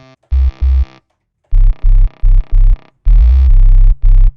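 Deep, heavy sub bass synth notes in short sustained bursts with gaps between, loud and buzzy, playing alone.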